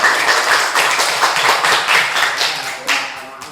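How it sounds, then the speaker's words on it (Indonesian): Classroom of pupils clapping hands together, a dense burst of overlapping claps at close range lasting a few seconds. "Bagus, sekali tepuk tangan."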